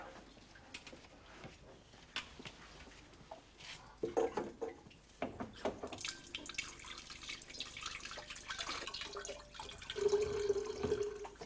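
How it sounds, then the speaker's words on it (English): Cold water runs from a single tap, a steady gush and splash that builds over several seconds, with a brief gurgling tone near the end; no voices. "There's only one tap and it's cold water."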